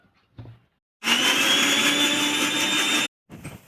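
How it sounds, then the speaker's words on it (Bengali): An electric mixer grinder whirs loudly and steadily for about two seconds while blending tomatoes into paste in a home kitchen, with brief clatters just before and after. "এই টমেটোরটাকে এবার একটু পেস্ট বানিয়ে নেব মিক্সারে"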